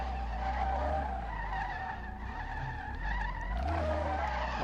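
Tyres squeal and skid continuously as an I6 bi-turbo Corsa Ute spins out on the Brands Hatch circuit in the racing game SLRR, under a loud droning engine, with no talk.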